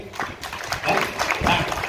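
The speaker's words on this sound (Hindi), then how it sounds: "डॉक्टर साहब के लिए जोरदार तालियां।" An audience claps loudly for a doctor in a steady, dense burst of applause lasting about two seconds, with some voices mixed in.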